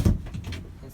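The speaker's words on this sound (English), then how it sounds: "I'm just going to close my door." A room door swings shut with a single dull, low thump near the start, then a faint rattle settling into quiet room tone with wind outside.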